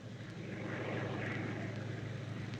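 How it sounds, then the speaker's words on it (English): A WWII-era scouting plane drones overhead as a steady, broad engine roar that holds level and fairly loud throughout, with no voices over it. "Scouting plane."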